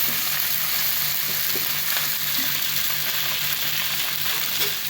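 Sankara fish fries in a pan with oil and masala, giving a loud, steady, dense sizzle with faint crackles throughout.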